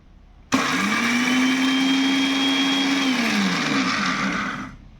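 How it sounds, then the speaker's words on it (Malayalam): A kitchen mixer grinder jar whirs loudly while grinding roasted dried prawns. It starts abruptly, holds a steady high whine for about four seconds, then spins down to a stop. "ഞാനിപ്പോൾ മിക്സിയുടെ ജാറിൽ പെട്ടെന്നൊന്ന് തിരിച്ചെടുക്കാൻ പോവേണ്ട"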